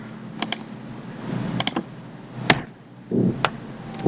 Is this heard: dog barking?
no